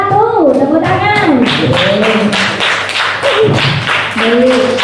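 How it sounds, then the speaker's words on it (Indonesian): Classroom audience of children applauding a student group after its presentation, dense rapid clapping continuing throughout while an adult voice speaks over it. "beri tepuk tangan sekali lagi untuk kelompok 1"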